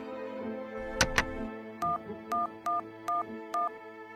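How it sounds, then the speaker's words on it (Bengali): A telephone number is dialed: two sharp clicks, then five evenly spaced keypad tones, clear and close with no talking. "দাঁড়ান, আমি করালি বাবুকে ফোন করছি।"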